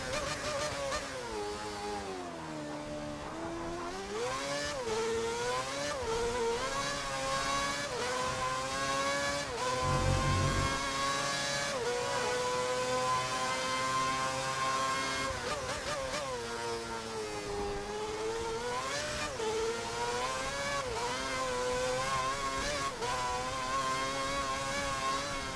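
Screaming Formula 1 engine from a racing video game set at Bahrain in 2010, revving high then dropping through rapid-fire downshifts for engine braking, repeated in loud sweeping cycles with no talking.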